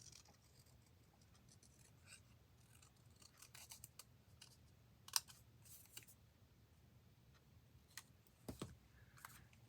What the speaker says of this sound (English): let me cut out the ring just a little bit better